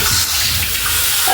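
Water runs steadily from a tap while freshly cut cassava is washed for abacha, a continuous close splashing hiss with no pauses.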